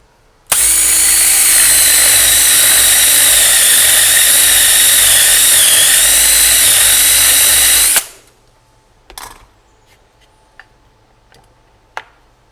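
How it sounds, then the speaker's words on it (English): A power drill with a Forstner bit whines loudly and steadily into wood for several seconds, boring a hinge recess, then stops abruptly, followed by a few faint clicks and taps. "I'm ready to drill my Forster bit to make that indentation for the hinge"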